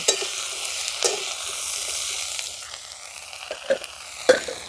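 Mixed winter vegetables frying in a covered pan, a steady soft sizzle with a few louder utensil scrapes and stirs near the end, close and alone.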